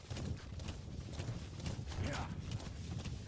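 Horse hooves clip-clopping in Metal Gear Solid 5: The Phantom Pain, a quick running beat of hoofs over a continuous outdoor noise bed, at moderate loudness.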